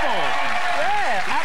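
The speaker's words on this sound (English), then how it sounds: "Let's give that a round of applause." Studio audience applause on the Ready Steady Cook television cooking show in 2001, a steady wash of clapping that runs the whole moment while someone talks over it.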